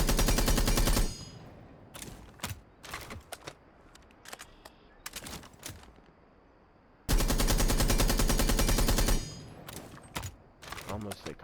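Automatic rifle fire fitted with a flash hider in the video game Rainbow Six Siege: two long sustained bursts and several short rapid volleys and single shots, loud and close, with sparse talk between them.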